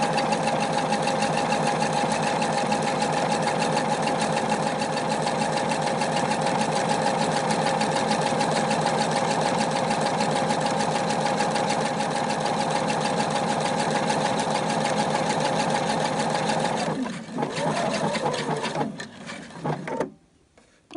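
Sewing machine stitching sideways toward the left while patching a trouser leg, a steady loud continuous whir for most of the clip before it slows and stops near the end.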